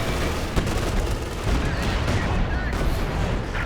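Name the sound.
artillery fire in the video game Company of Heroes 2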